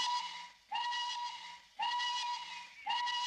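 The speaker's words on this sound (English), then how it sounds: "Just then, the factory hooter blew." Factory hooter blowing in three long, loud steam-whistle blasts with short gaps between them, a steady tone with a hissing edge.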